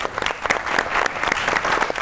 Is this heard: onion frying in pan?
no